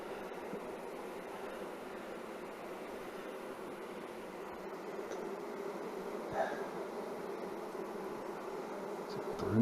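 Honey bees buzz around an open hive during a frame inspection, a dense continuous drone at moderate, fairly faint level, with no talking.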